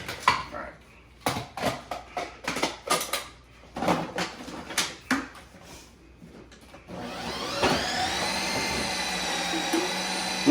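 Ninja Creami ice cream machine, preceded by a series of clattering knocks and clicks as the pint is loaded, then a loud steady whirring motor drone starting around the seventh second and running on.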